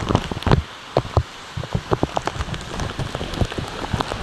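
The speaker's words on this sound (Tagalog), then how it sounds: "Ulan guys, ulan guys." Heavy rain pelting down on a surface, with dense close drops and irregular louder splats spread throughout and no voices.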